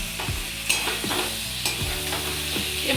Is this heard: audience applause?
no